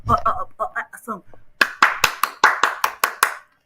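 One person claps hands sharply about eight times in a quick, slightly uneven rhythm close to the mic, right after a stretch of speech.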